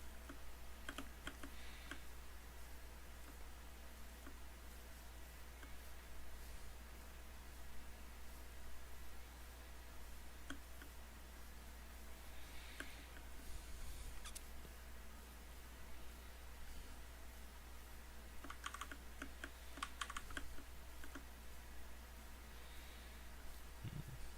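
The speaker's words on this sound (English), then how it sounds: "the clicking of my keyboard and mouse" Quiet, steady computer keyboard typing and mouse clicks during a Minecraft session, scattered soft taps in loose bursts over a constant low hum, with no talking.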